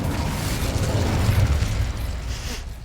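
An Incendio fire spell is cast in the Hogwarts Legacy video game, a loud, sustained, roaring whoosh of flame with a booming low rumble that holds steady for about three seconds, with no talking.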